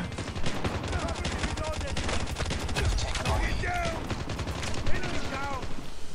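Rapid automatic gunfire in the Halloween map of the mobile shooter Call of Duty Mobile, dense bursts of shots crackling continuously throughout with game effects layered in.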